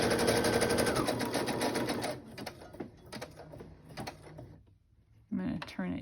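A sewing machine stitches zigzag around a fabric tag, with a fast mechanical whir that runs steadily for about two seconds and then breaks into stop-start bursts with pauses.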